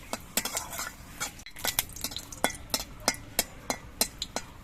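Metal utensils clink and scrape against a pan in quick, irregular strokes, with faint frying of whole cumin seeds and dried red chillies underneath.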